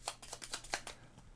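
Board game cards being shuffled by hand, a quick series of soft riffling bursts and slaps close to the microphone, fairly faint, with no voice over it.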